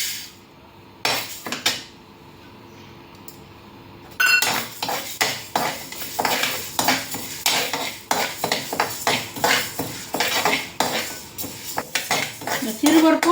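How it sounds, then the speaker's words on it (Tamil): Moong dal dry roasting in a pan, starting with a few scattered clinks and then a busy run of rapid metallic scraping and tapping of a spoon against the pan, close and loud. "இப்போ அடுத்தால நம்ம சிறுபருப்பு வறுத்துடலாம்"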